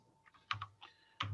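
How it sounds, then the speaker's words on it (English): A handful of quick, close keystrokes clatter on a computer keyboard as a pip install command is typed into the Anaconda prompt, sharp taps in a quiet room. "you have to enter on the Anaconda prompt, you type pip install"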